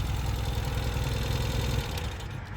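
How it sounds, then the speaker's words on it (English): A 2022 Ural Gear Up sidecar motorcycle engine idling, a steady low mechanical chug with a pulsing exhaust beat that holds even, then eases slightly near the end, close and alone without talk. "you'll hear once the bike warms up, the sound actually changes a bit as that valve does its thing"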